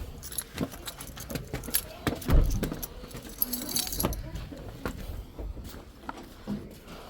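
Keys jingle and rattle at a house door while it is being unlocked, in irregular close bursts with a heavier clunk midway, over faint outdoor background and a distant vehicle.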